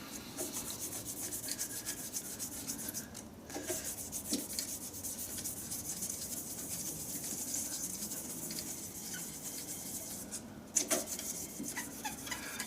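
Sandpaper rubs steadily against a wooden shaving brush handle spinning on a lathe, moving through finer grits, a soft continuous rasping hiss that stays close but quiet with a few faint knocks.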